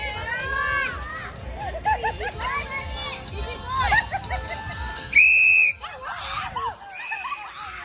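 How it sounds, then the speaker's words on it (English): At a Kosrae Liberation Day 2025 event in Honolulu, amid a noisy crowd of children shouting and playing, a sharp, loud whistle blast rings out once, with voices chattering before and after. "When I blow my whistle,"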